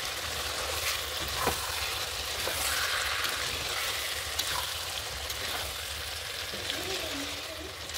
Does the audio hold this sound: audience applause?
no